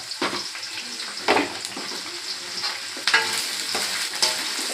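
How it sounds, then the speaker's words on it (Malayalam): Okra sizzling as it fries in a pan, with a few distinct scraping stirs of a spoon across the pan over a steady low hiss; no voices. "വെണ്ടയ്ക്ക ഇട്ട് നമുക്ക് നന്നായിട്ടൊന്ന് ഇളക്കാം."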